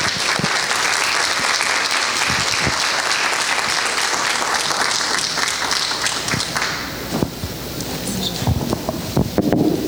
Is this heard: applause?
yes